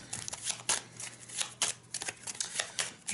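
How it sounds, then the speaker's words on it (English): Playing cards for a solo tabletop game, Aventuria, being shuffled close up: quiet, crisp bursts of riffling and snapping that repeat in an irregular rhythm, with no talk. "Shuffling my cards"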